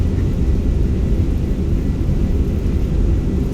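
Full thrust reversers on a Fenix A320 landing in a flight simulator produce a loud, steady, deep roaring rumble that holds constant throughout without breaks or voices.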